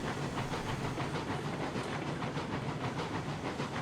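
A steam locomotive in the video game Railroads Online, pulling 13 loaded cars, chugs steadily with rhythmic exhaust puffs and hissing steam, loud and close, no voices.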